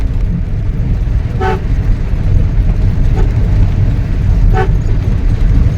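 Car horn honking on a mountain road, two short toots a few seconds apart over a loud, constant engine and road rumble heard from inside the vehicle.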